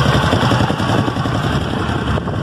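A WS 150 motorcycle engine idles steadily with a broken exhaust, giving a rough, continuous low rumble that stays loud and close throughout, with no talk over it.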